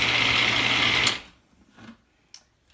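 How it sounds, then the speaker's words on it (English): Electric food mixer spinning homemade salsa with lime juice, a loud, steady high whir lasting about a second before switching off, followed by a few faint knocks. "And then you just turn on your mixer."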